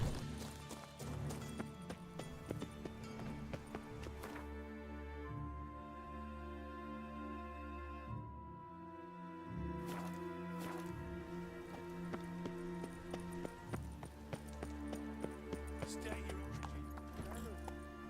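The horse Roach galloping in The Witcher 3: Wild Hunt, rhythmic hoofbeats over a game music bed, steady and close with a brief lull mid-way.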